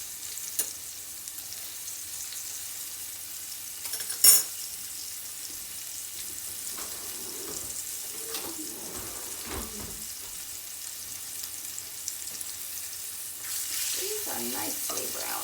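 Lamb chops frying and browning in a pan in a home kitchen, a soft, steady sizzle running throughout with occasional clinks and stirring noises and a few brief moments of talk.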